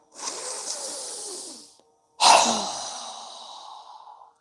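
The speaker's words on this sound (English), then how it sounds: "inhaling through our nose, exhaling through our mouth with a strong breath" Two forceful breaths in a yoga breathing exercise: a long rushing breath through the nose, a short pause, then a strong, close, breathy exhale pushed out through the mouth that fades away.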